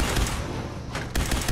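In the Fallout 4 video game, enemies fire incendiary pistols in a short, loud burst of rapid shots that overlap into a dense fusillade.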